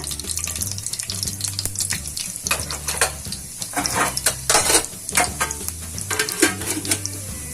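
Mustard seeds, urad dal and cumin crackle and sizzle in hot oil in uneven bursts of sharp pops over a low, steady hum.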